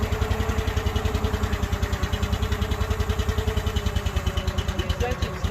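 A log splitter's small engine runs in a steady rapid chug, loud and close, with a voice talking over it.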